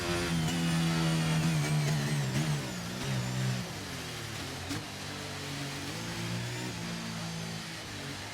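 Red Bull Formula 1 car on a racing video game lap, its high engine whine rising and falling through gear changes, steady and loud throughout with no talking.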